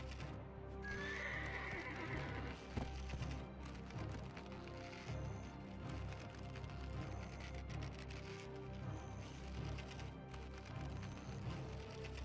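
A horse in the Black Desert Online video game whinnies and clip-clops on hooves, faint and steady through a dense game soundscape, with a brief neigh near the start.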